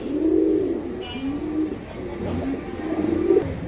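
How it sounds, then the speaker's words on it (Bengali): A pair of big red-eyed crested pigeons coo close by, a series of low, rolling throaty calls rising and falling over about four seconds with no talk. "লাল গিয়ারের টপ কোয়ালিটি বিগ সাইজের খাড়া জুটির এক জোড়া কবুতর"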